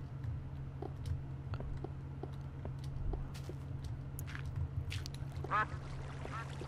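A duck in a modded video game quacks a few times, short nasal calls near the end over a steady low hum, footstep-like taps and scattered game clicks.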